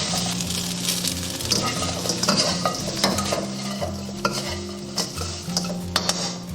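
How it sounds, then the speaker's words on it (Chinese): Bullfrog pieces and preserved mustard greens are stir-fried in a wok, the spatula scraping and clattering steadily against the metal over a continuous close sizzle, with no talking. "翻炒均匀。"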